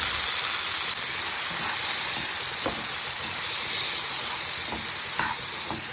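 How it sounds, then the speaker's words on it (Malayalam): Mango pickle fries in hot oil with garlic and curry leaves while being stirred, a loud constant sizzling hiss with occasional faint scrapes from stirring, close and steady. "കറിവേപ്പിലയും കൂടി ഇട്ട് കൊടുത്തതിന് ശേഷം നമ്മൾ മാറ്റി വെച്ചേക്കുന്ന മാങ്ങയും കൂടി ഇതിൽ ചേർത്തിട്ട് നന്നായിട്ട് ഇളക്കി കൊടുക്കാം."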